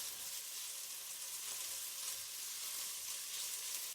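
Bacon frying in olive oil in a hot pan, a steady, close crackling sizzle with dense spitting pops throughout, with no voices over it.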